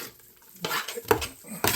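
A spoon works through mashed potatoes seasoned with salt and white pepper for Irish colcannon, giving a few soft, thick scraping and clanking strokes against the pot in close succession.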